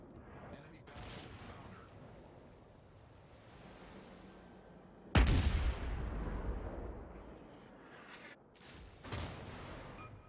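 The Yubari cruiser fires high-explosive shells in a World of Warships naval battle. A sudden loud boom of a salvo rolls off into a low rumble, and a second, softer blast follows. Ocean ambience and faint talk run underneath.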